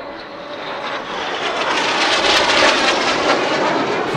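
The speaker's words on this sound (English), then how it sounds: "The synchro pair now arrive for the corkscrew." Jet aircraft of a synchro pair arriving for a corkscrew at the Southport Airshow, a loud broad roar building steadily as they approach and holding strong.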